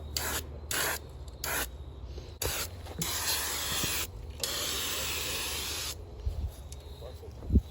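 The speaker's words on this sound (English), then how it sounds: "We're just gonna spray this bumper, and yeah, at least it'll be shiny and glossy." An aerosol spray paint can hisses onto a BMW E36 bumper in several bursts, short sprays followed by a longer continuous one, close up, with faint rustling and handling noises between.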